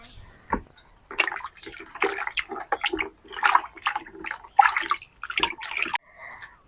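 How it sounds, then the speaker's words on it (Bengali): Tomatoes are washed in water by hand, with irregular close splashes, sloshes and drips in short bursts and quiet gaps between. "টমেটোগুলোকে ধুয়ে নেবো"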